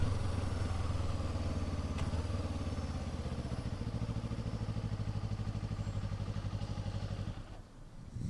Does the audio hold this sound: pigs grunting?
no